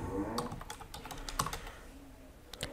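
Quick bursts of computer keyboard typing, clustered keystrokes with short pauses between, close and fairly quiet, no voice.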